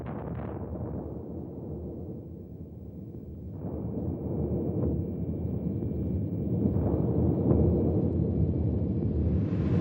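A Chinese nuclear test detonation is heard as a deep, rolling rumble that swells and surges for about ten seconds, with no voices over it.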